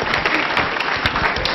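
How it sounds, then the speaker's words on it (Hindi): Audience applause at a Doordarshan quiz-style programme, a dense, steady wash of clapping that stays loud and even for its short length with no voices over it. "तालियां जोरों से बजाइए।"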